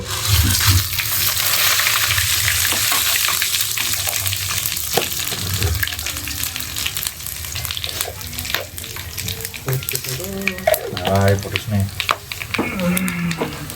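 Whole spices (cinnamon, bay leaf, black pepper, cardamom, cloves, cumin and shahjeera) sizzle and fry in hot oil for village-style chicken biryani, with continuous crackling, scattered metallic clinks and stirring scrapes close by.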